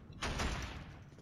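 Gunfire in the video game Killzone: a loud burst of shots begins about a quarter second in, then a sustained noisy rumble that stays strong to the end, with no voices.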